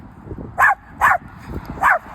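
Dog barking three times in short, loud, close woofs spaced about half a second to a second apart, with quiet background sound between them.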